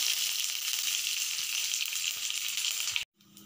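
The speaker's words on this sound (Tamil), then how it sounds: "கடுகு சேர்த்துக்கலாம். கடுகு நல்லா பொரியட்டும்." Mustard seeds and curry leaves sizzle steadily in hot oil for a tomato kurma, a loud close hiss that cuts off abruptly near the end, with no talk.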